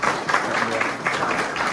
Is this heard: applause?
yes